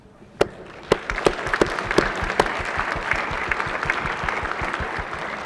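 Applause in a state Senate chamber for visiting elementary school groups, a roomful of people clapping steadily, opening with a few sharp individual claps and settling into a dense, sustained round.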